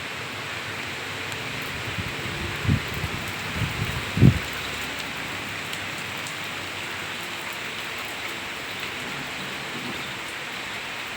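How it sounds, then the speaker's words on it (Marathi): Steady rain falls outdoors as a continuous, even hiss of moderate loudness, with a couple of brief low thumps partway through and no talk. "आणि फायनली पाऊस आला आहे बघा।"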